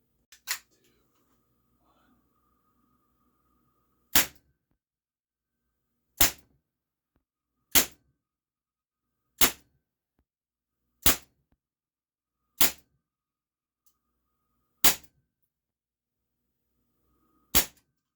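A Beretta PX4 Umarex CO2 air pistol fires into Play-Doh, eight sharp, loud, isolated pops spaced a couple of seconds apart over near silence.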